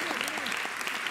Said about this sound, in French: Je peux applaudir quand même, je peux applaudir, comme ça.